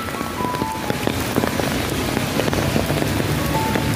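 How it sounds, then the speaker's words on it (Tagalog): Heavy rain pours during a black rainstorm in Hong Kong, a dense, constant hiss of drops hitting surfaces nearby, with scattered louder splatters and no voices. "Malakas ang ulan. Sobrang lakas ang ulan kagabi pa."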